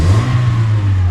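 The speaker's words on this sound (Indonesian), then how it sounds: "Gasnya 1/4 itu dengan mode sport." A Daihatsu All New Terios engine revs hard in sport mode at quarter throttle, climbing to around 7,000 RPM, a loud, steady, close-up roar that holds a sustained high pitch throughout.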